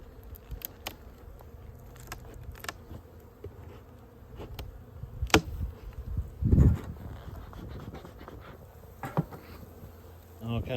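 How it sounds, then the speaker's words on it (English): Honey bees buzz around a winter hive, a soft continuous drone with scattered louder passes as individual bees fly close to the microphone, one especially near buzz in the middle, amid faint handling noises. "All kind of bees in that one too."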